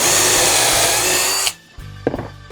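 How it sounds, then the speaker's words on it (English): A power drill drives a pocket screw into wood for a truck bed build, a loud continuous whine for about a second and a half that stops abruptly, followed by a few faint knocks and clicks. "We'll glue everything and run in the pocket screws,"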